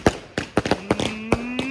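Fireworks in a video game crack and pop in a quick irregular series of sharp bursts, several close together, followed by a rising whistle-like tone. The bursts sound near and distinct.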